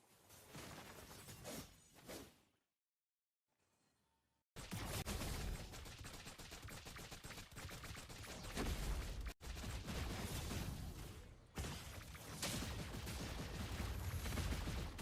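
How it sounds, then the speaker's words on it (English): The Feather Airstrike skill fires in the Mobile Legends: Bang Bang game, and a dense, loud barrage of blasts and crackling impacts fills the mix. A brief near-silent gap breaks it before the explosive clatter resumes, with no talking. "They can't even cancel that Farsa's Feather Airstrike"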